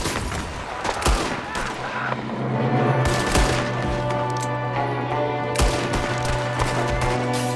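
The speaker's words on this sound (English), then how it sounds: "There's another one shooting from a window." Bursts of gunfire in the Red Dead Redemption 2 video game, sharp repeated shots and volleys scattered over a constant low background hum, with one shooter firing from a window.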